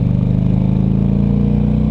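A Harley-Davidson motorcycle cruising down the highway, its engine a loud, steady low throb with a pulsing rumble, close and continuous with no voices.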